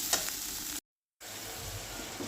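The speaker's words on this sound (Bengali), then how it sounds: "এই তরকারিটাকে এখন ভালো করে আমি কষিয়ে নেব" Steady sizzling and frying of a vegetable curry with drumsticks in a pan, with occasional stirring scrapes, interrupted by a brief silent gap before the sizzle resumes.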